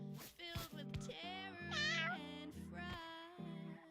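Several close, loud cat meows from a cat-breeding video game, a run of distinct drawn-out calls with a rising, strained one in the middle.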